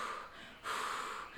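Voice imitating heavy labour-contraction breathing: two long, loud breaths up close, an inhale then a stronger exhale, with no other sound.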